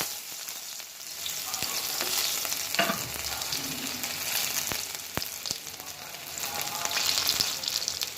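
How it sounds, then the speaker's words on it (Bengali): A small chopped onion fries in about three spoons of oil in a pan, giving a steady crackling sizzle broken by occasional sharp utensil clicks as it is stirred. "তিন চামচের মতো তেল বেশি তেল দিব না ছোটো একটা পেঁয়াজ কেটে দিলাম"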